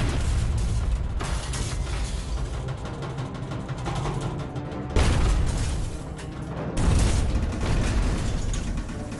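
Heavy rumbling booms of depth charges exploding around a submarine, muffled and deep, with two louder blasts standing out amid creaking of the hull.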